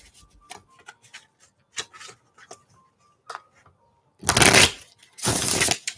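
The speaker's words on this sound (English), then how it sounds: "I'm using a new deck, so I have to like really shuffle more than usual." A brand-new tarot deck being shuffled, light ticking card taps at first, then two loud riffling bursts of cards close up.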